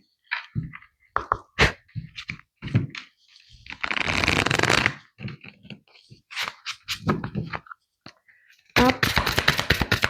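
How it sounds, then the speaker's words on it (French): Oracle cards are shuffled in two bursts of riffling and flicking, one in the middle and one at the end, close and crisp, between quiet whispered speech. "je vais rebattre encore"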